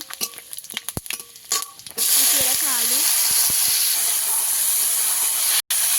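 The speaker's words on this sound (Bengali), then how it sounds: "তেল গরম হয়ে গেছে তেলের মধ্যে দিয়ে দেবো চিনি" Sugar, panch phoron, dried red chilli and bay leaf hit hot oil halfway through, setting off a loud, sustained hiss after a stretch of scattered clicks and clatter.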